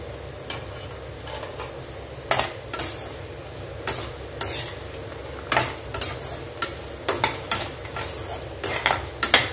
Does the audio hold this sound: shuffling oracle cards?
no